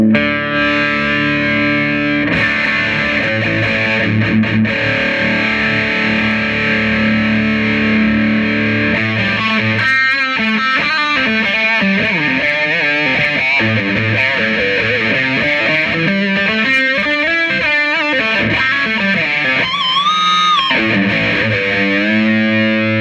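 Line 6 guitar amplifier on its modern high-gain channel at the NAMM Show, dense distorted electric guitar with sustained chords followed by fast riffing and a squealing high lead bend, loud and continuous with no talk.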